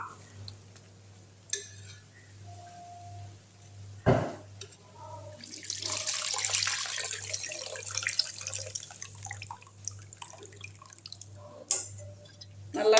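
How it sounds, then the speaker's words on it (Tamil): Tamarind water is poured into a pot of fish curry, a soft continuous splashing stream after a clink, over a low steady hum with scattered kitchen clatter. "இப்போ புளி தண்ணி எடுத்து ஊற்றிடலாம்."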